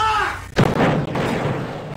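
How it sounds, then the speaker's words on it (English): Explosions in a cart video game: a sharp, loud blast bursts in about halfway through, followed by rumbling crackle and a few further thuds, with a faint voice heard early on. "The explosions are quite funny"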